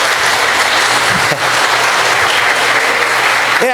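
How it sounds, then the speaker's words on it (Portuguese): A church congregation gives loud, continuous applause, a dense wall of clapping filling the hall, with a brief voice at the very end. "Você pode dar uma salva de palmas para o Senhor"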